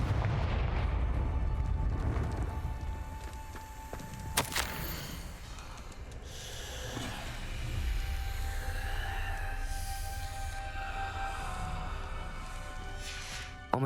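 A Confringo fire spell cast in Hogwarts Legacy bursts as a sharp explosive boom at about four seconds. It rises over a dense, rumbling game soundscape and music, with a lighter crackling blast near the end.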